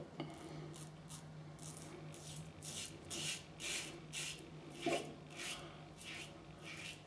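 An Edwin Jagger DE89 safety razor scrapes across skin near the nose, faint close rhythmic rasping strokes repeating at a steady pace, no talk.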